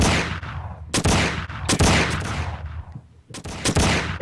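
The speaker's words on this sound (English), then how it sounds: "Just go shoot them." Gunshots in a Prop Hunt video game, a few loud, sharp blasts each followed by a long echoing decay, spaced roughly half a second to a second apart and close up, with no talking.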